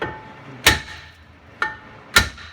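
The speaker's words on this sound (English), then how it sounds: "Alright, so I like to use a 3-pound sledgehammer." Three sharp, heavy metallic clangs from a 3-pound sledgehammer striking a brake rotor on a 2012 Mazda, spaced irregularly, each ringing briefly before fading.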